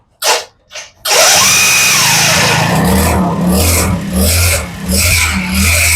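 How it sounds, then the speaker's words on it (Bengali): A small 50cc XL motorbike engine starts after a couple of brief cranking bursts, then settles into a loud, close, buzzy idle with rhythmic revs rising and falling. "আমরা স্টার্ট দিয়ে একটু শোনাই স্টার্ট দাও"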